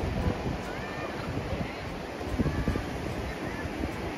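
Surf washing onto Cha-am beach in Thailand at low tide, with wind buffeting the microphone: a constant broadband roar with gusty low rumbles and no speech.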